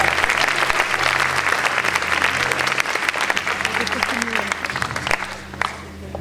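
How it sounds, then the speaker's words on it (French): An audience applauds a guest introduced as Albert Einstein at an improvised stage show, a sustained wash of clapping with crowd murmur, thinning slightly toward the end while a voice speaks over it. "Donc on l'applaudit"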